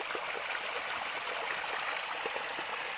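A stream flows steadily where snails and fish are being gathered, a continuous rushing babble with a few soft gurgles, close and moderately loud, with no voices.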